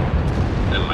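A tank gun fires in World of Tanks, a heavy booming blast whose dense low rumble fills the whole short moment.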